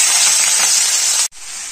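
Potatoes dropped into a hot wok with dried chili tempering set off a loud, steady broadband sizzle and hiss that cuts out briefly near the end, then resumes. No voices.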